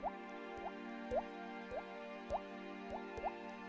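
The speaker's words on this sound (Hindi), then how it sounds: "छत से पानी गिरकर घर में भरने लगा।" Rainwater drips from a roof in a slow, steady rhythm, single drops plopping about every half second, faint and close over a low constant hum.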